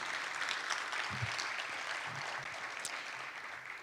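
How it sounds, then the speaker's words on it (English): An audience at a Say Yes Buffalo scholarship celebration bursts into steady applause, a dense continuous wash of clapping with a few low murmurs or thumps mixed in partway through. "that's worth clapping about."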